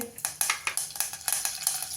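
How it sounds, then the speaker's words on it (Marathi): Rapid crackling and popping of seeds in hot fat, a dense run of sharp pops about every quarter second, close and fairly quiet. "तूप गरम झालंय त्याच्यावरती जिरं घालूया जिरं तडतडलं की त्याच्यामध्ये आपल्याला कढीलिंब घालायचं आहे"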